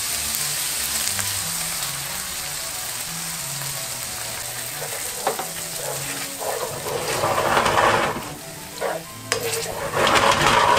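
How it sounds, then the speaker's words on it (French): Liquid cream poured into a hot pan of tartiflette base after white wine has reduced nearly dry, giving a steady close sizzle with stirring and scraping, the frying hiss swelling louder toward the end. "Je vais alors verser ma crème liquide."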